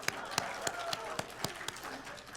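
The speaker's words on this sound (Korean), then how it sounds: "박수 부탁드립니다" Audience members clap at a ceremony marking the Korean women journalists' association's 60th anniversary, a thin scattering of sharp, separate handclaps heard at a distance, fairly faint and irregular in rhythm.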